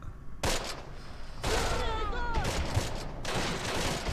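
Heavy bursts of small-arms and machine-gun fire come in loud waves in the World War II tactics game Close Combat, set during the Longest Day campaign, with short lulls between volleys.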